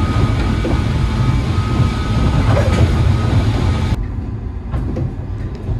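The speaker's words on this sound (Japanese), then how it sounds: "単線路線ではありますが、限界まで飛ばしていきまして、モーターの音が鳴っております。" A JNR 103 series train on a single-track line runs at speed, its traction motor whining over a loud, continuous rush of rolling noise heard from inside the car, with the sound dropping abruptly partway through.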